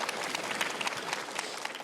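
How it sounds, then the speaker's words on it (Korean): An audience at a Gwangju city hall public forum with the mayor claps briefly, a soft, fairly distant patter of many hands heard alone for a moment. "박수 한번 부탁드리겠습니다"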